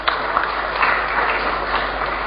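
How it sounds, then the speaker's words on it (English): A conference audience at Uganda Water Week claps for the keynote speaker and panelists. The applause is a dense, steady wash of many hands that holds at an even level, with no voices over it. "Let's give them a big clap."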